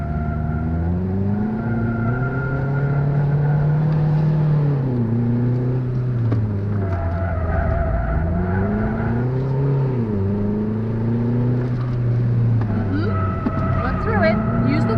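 A car at a driving school runs through a handling course, its engine droning and revving up and down in smooth swells as the throttle opens and eases, loud and close throughout.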